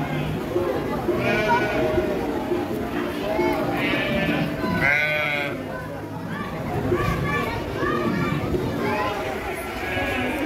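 Several sheep bleat repeatedly in a livestock pen at an agricultural expo in Alagoas, with cries rising over steady crowd chatter and nearby voices talking throughout.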